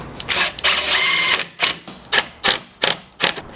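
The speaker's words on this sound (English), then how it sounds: "Zeb's going to go ahead and put a screw in each end where we pre-drilled it" A drill drives 1 5/8 inch screws into pre-drilled wood while a farmhouse-style desk is built, several loud close bursts of motor whirr, one long and the rest short, separated by brief pauses.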